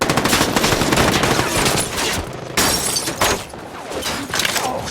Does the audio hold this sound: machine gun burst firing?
yes